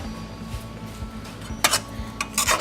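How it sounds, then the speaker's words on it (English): A spoon scrapes and knocks inside a pot of lentil curry with coconut milk, a few sharp metallic clinks and scrapes over a low steady kitchen hum, close and fairly quiet with no voices. "And we stir"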